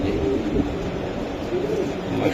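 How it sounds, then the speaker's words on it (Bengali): Club racing pigeon cooing softly in a low, murmuring burble against constant background noise, with no clear gaps. "এটা ক্লাবের কবুতর এটা হলো সাবার রেসিং পিজন কবুতর"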